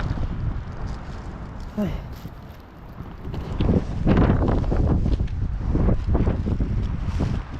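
Gusty wind with light falling snow in Canada buffets the microphone with rough, rumbling bursts, while a voice briefly exclaims once early on.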